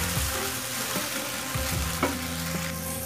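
Butter garlic potatoes in a pan sizzle steadily as a flour and water mixture is stirred in, with soft spoon scrapes and gentle bubbling close by and no voices.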